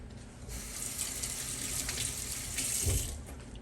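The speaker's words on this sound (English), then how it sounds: "Gonna hear that faucet going off a lot because I do wash my hands a lot." Water running from a kitchen faucet while hands are washed during meatball preparation, a steady close hiss of flowing water into the sink that swells slightly midway and carries on throughout, with no talking.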